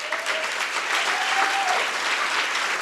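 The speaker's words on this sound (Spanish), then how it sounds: "Denle un fuerte aplauso al Señor." A church congregation claps loudly and steadily in a sustained burst of applause that fills the room evenly from start to finish.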